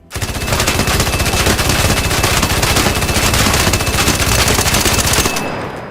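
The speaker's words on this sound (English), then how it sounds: "you can also attach the kinetic converter to the Torrente, giving it an even higher fire rate" The Torrente gun fitted with a kinetic converter fires in ARC Raiders, a loud, dense, unbroken stream of rapid automatic shots lasting several seconds before cutting off abruptly.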